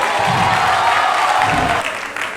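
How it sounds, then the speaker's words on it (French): An audience applauds at a curvy-women beauty pageant in Gabon, a steady, dense wash of clapping from a crowd filling the room. "On appelle la candidate numéro 6, sous vos applaudissements, Madame Djongue Tonde Williams Yasmine"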